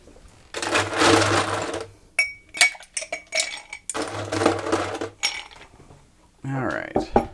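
Ice stirred in a mixing glass for a cocktail with green chartreuse, two bursts of rapid rattling and clinking, each lasting about a second and a half, close and bright, with scattered knocks between and after.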